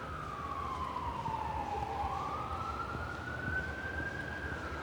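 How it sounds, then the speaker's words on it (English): A police siren wails while passing through Waikiki streets, a single steady rising and falling tone heard from a distance over constant city traffic rumble. "Police sirens."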